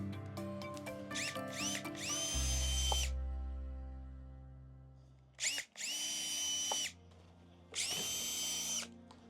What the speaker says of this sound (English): So now we're just gonna drill a hole